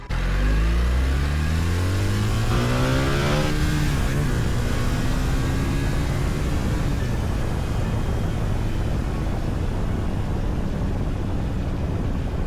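A BMW R1300GS Adventure motorcycle with the automatic shift assistant accelerates hard through the gears up to third. The engine note climbs loud and close, drops at each shift, and fades into a steady roar with wind.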